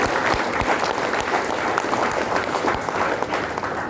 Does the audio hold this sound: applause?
yes